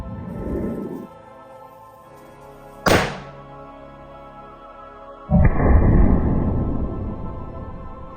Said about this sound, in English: we're gonna deflagrate about half of this, roughly 500 milligrams, using my plasma wand in the blast shield behind me